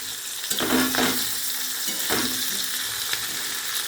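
Onions frying in oil with bay leaves for Bengali pona fish piyaji: a steady, close sizzle broken by a few scraping spoon strokes as the pan is stirred.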